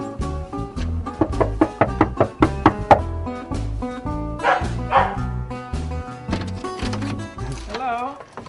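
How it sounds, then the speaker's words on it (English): Small dog Dexter barks and yips in a quick series of sharp, close yaps, with a few higher whimpering cries near the end, while people talk in the background. "We're here to see the little dog"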